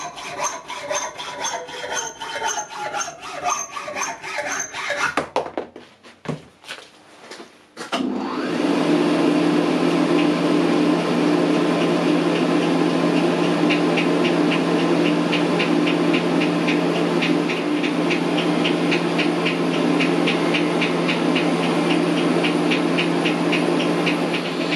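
A metal shaper takes cuts with a homemade keyway cutting tool, giving rhythmic rasping strokes at first, then a brief lull, then a loud, steady mechanical whir and scraping that runs to the end.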